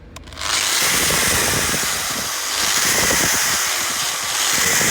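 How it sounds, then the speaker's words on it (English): An angle grinder with a broken switch spins up and runs at full tilt, a loud, continuous, harsh whine that holds steady close by with only slight swells, and no voices. "They tells me this grinder's got a broken switch."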